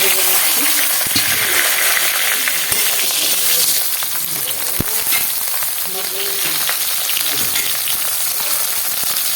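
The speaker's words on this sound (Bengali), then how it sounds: "আমি ভেজে নেব সব বেগুনগুলো" Eggplant pieces fry in hot oil in a pan for a spicy eggplant and small-fish curry: a dense, loud, steady sizzle runs throughout, with a few sharp stirring clicks and utensil taps.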